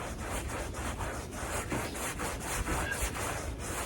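A brush scrubs the wheels of a Cadillac XTS in steady back-and-forth strokes, a continuous close rubbing and swishing with a regular rhythm and no talking.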